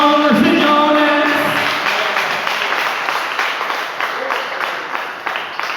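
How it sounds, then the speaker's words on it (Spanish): A church congregation claps along during a Spanish-language service, a loud, dense wash of applause that gradually fades over several seconds. "Pueden darle palmas al Rey de Reyes y Señor de Señores."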